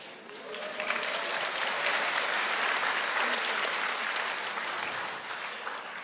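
Church congregation clapping together for the pastor, a dense, steady round of applause that swells and then gently tapers off.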